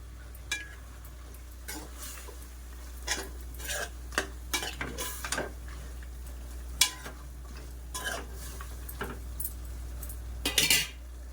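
Curry with ginger garlic paste cooking in a pan at home, stirred with a metal spoon: scattered scrapes and clinks recur irregularly over a low, steady background hiss and hum, with no talking.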